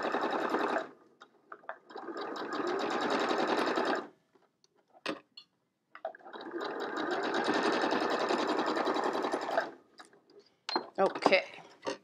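A sewing machine stitches a quilt block, running in two long steady bursts of dense rapid needle clatter at moderate loudness, separated by pauses with small clicks and handling noises.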